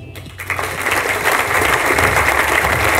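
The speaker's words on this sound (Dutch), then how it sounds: "ik wil nog heel graag een applaus vragen voor andere Kuipers" An audience at a casino café event breaks into applause, with dense clapping rising quickly and holding steady and loud.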